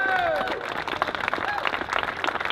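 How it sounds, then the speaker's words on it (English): An audience at a city hall demolition event bursts into a round of applause, busy scattered clapping with cheers and voices mixed in, following a brief whistle. "Please join me in giving a big round of applause for Ron Hogan."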